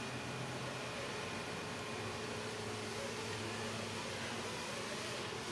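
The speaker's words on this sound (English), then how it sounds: "AC compressor, once again blowing cold." Steady mechanical whir of the AC compressor on a V8 1969 Ford Mustang Fastback running at a constant level, broadband and continuous, with a faint low hum underneath and no voices.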